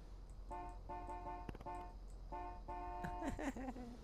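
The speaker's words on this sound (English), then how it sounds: "you're supposed to honk your horn" Car horn in the video game Saints Row: The Third honking in a series of short repeated toots, two groups of evenly spaced blasts, fairly faint, then a voice breaks in at the end.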